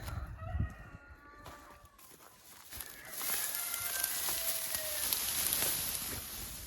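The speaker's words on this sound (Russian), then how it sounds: "Курочки выбирают все зернышки, двигаются, шевелятся, работают, кушают." Hens in a winter farmyard pecking at grain, clucking softly while a rooster crows loudly partway through over the scratching and low flock noise.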